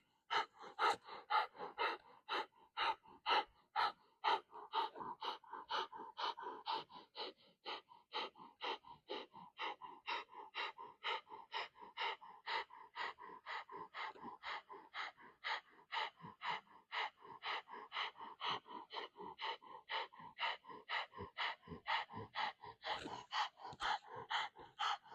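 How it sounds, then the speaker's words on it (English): A person practicing Kundalini yoga does breath of fire, a steady rapid series of forceful nasal exhales pulsing evenly and close throughout, with the pace briefly shifting near the end. "bring your nose between your knees, and we'll begin the breath of fire again"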